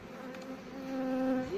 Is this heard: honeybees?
yes